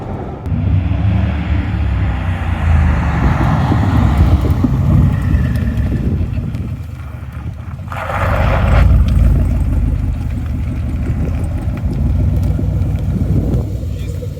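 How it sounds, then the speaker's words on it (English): A twin-turbo C8 Corvette with a Hooker exhaust rumbles loudly nearby, its deep note rising and falling with a surge in the middle and scattered crackling pops, while someone talks over it. "You hear the pops now."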